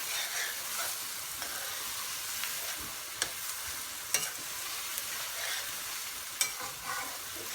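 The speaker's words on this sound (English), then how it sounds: "Even though I don't want to stir too much, you do have to keep going back and making sure everything's going well with it." Vegetable curry fries in a pan with a continuous hissing sizzle, broken by occasional sharp taps and scrapes of a stirring spoon.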